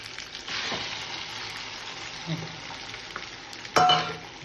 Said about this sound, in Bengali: হ্যাঁ, তেলে কচুটা দিয়ে নিচ্ছে